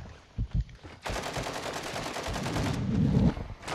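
Bursts of video game gunfire in a multiplayer shooter, with a couple of short shots followed by a sustained, loud rattle of rapid fire that continues almost without a break.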